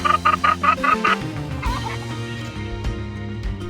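Chickens cluck in a coop where eggs are collected, a rapid burst of loud clucks at first giving way to softer, scattered hen calls and faint rustling.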